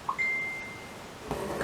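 A phone's short notification chime rings out once, a bright, brief tone that trails off, amid a quiet room during embroidery work.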